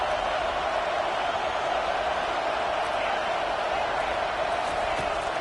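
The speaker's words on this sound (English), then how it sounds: "this crowd trying to help keep them there" A football stadium crowd at a game against Auburn roars in a steady, dense wash of noise that holds at an even level throughout, with no distinct voices standing out.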